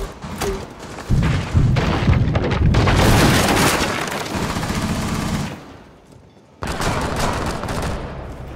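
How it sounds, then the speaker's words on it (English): A cluster charge detonating in Rainbow Six Siege during a Chalet match: a chain of rapid, loud thumping blasts rolls on for several seconds, drops to a brief lull, then heavy impacts resume. "Detonating cluster charge."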